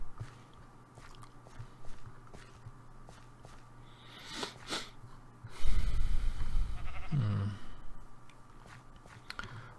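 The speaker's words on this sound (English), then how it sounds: "Well, sheep, here's one of the reasons I did all this, Mr. Sheep" Sheep in a video game give a short, close bleat after a stretch of quiet crunching and footstep-like sounds.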